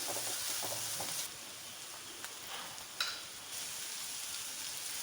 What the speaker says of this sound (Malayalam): ഒന്ന് വാടി വരുമ്പോൾ ഒരു സവാള കൂടി ചേർത്തു. കുറച്ച് ഉപ്പും കൂടി ഇട്ട് നന്നായി വഴറ്റിയെടുക്കുക.